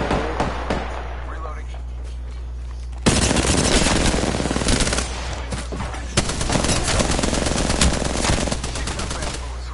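Video game gunfire during a squad battle royale fight: quieter shots at first, then a sudden loud stretch of rapid automatic bursts and crackling fusillades, near and sustained, with players talking over it and a low steady hum beneath.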